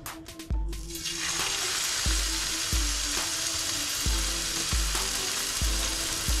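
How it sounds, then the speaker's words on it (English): Beef burger patties from a Michael's Burgers kit fry in a touch of oil on a hot pan, giving a loud, steady close-up sizzle punctuated by regular low thuds. No one speaks. "we're gonna go ahead and place the patties right onto the hot pan"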